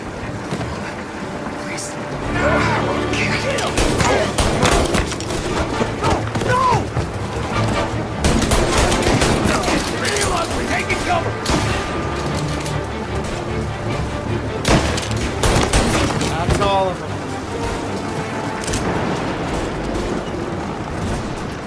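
Gunfire erupting during a combat scene in Mafia: Definitive Edition, with repeated sharp shots and bursts cutting through a busy mix while a narrator and character voices talk throughout.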